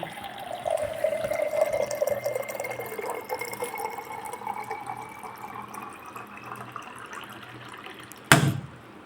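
Water pours steadily into a tambya (metal water pot), the trickling tone rising in pitch as it fills, ending with a short sharp clatter.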